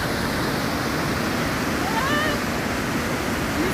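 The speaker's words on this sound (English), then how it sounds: "We got beautiful waterfalls at Webuye, Nabuyole, Kenya." Steady broadband roar of the Webuye (Nabuyole) waterfalls near a rural town in Bungoma County, Kenya, filling the whole clip at constant loudness, with a brief rising tonal sound partway through.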